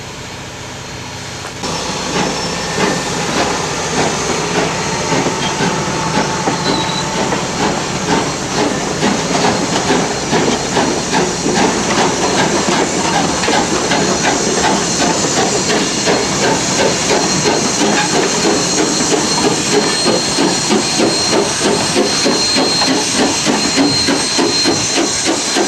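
STCR steam locomotive No. 9 at the Rosy Rhubarb Festival in Shedden, Ontario, gives off a loud, steady hiss of steam that runs on continuously, with faint rhythmic mechanical clanking underneath.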